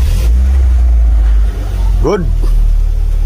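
A car engine that has just had its coolant bled idles with a steady, close, low rumble, and a voice briefly speaks one word partway through.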